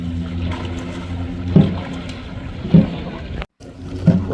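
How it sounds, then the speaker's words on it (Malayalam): A long Kerala snake boat at the Jelothsav 2024 boat race event in Ireland is paddled in unison, giving evenly spaced splashing strokes about every second over a low wash of water and wind. "ഒരേ താളത്തിൽ തുഴഞ്ഞാണ് ഇവിടം മുതലേ അവർ അങ്ങോട്ടേക്ക് പോകുന്നത്."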